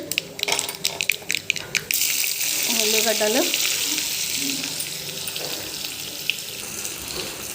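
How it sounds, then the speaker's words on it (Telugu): Cumin seeds and dried red chillies hit hot oil, setting off a loud, steady sizzle that fills most of the clip after a few sharp crackles and clicks at the start, with a brief voice heard partway through. "తాలింపు వేస్తున్నాను కావాలి జీలకర్ర ఎండుమిర్చి"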